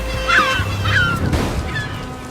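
Kelp gulls squabble over rock lobsters washed ashore by a red tide, giving harsh honking calls in a few quick bursts over a low background rumble.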